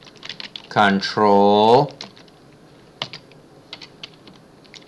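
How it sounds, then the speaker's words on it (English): A computer keyboard is tapped for shortcut combinations, with light, close, scattered key clicks before and after a short stretch of spoken words. "I am typing control, comma, and when I finish, I will type"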